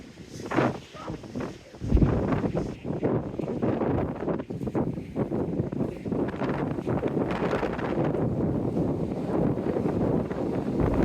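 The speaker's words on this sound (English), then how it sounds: "It got so windy just now, I actually stopped filming on that sequence of the wall." Loud, blustery wind on a seawall by the beach at Teignmouth buffets the microphone, a constant roaring rumble with stronger gusts throughout.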